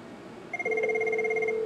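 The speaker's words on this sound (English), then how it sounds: "our own phone will ring" A Cisco 7940 IP phone rings with a steady electronic tone that starts partway through and holds at a constant level, close and clear, with a brief pulsing chirp layered over its opening.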